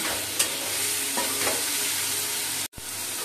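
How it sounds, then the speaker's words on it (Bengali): A yogurt mixture hits fried prawns in a pan, giving a continuous close sizzle with a few scraping stirs and one abrupt pause near the end, with no voices. "চিংড়ি মাছটা আমার ভাজা হয়ে গেছে। এবার আমি দইয়ের মিক্সচারটা দিয়ে দেব।"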